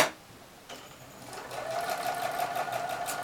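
A sewing machine quilting a half-circle stitch starts up after a brief quiet moment and settles into a steady, rapid whir, close and fairly loud.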